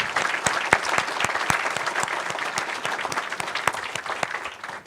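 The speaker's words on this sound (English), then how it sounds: "Give them all a round of applause." An indoor audience at a community meeting claps steadily for several seconds, a dense, even applause with sharp individual claps standing out, no voices over it.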